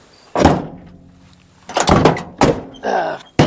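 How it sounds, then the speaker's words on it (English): The door of an old Ford vehicle shuts several times, giving a sequence of solid, close thunks and slams with short pauses between them and no voices. "Door shuts beautiful."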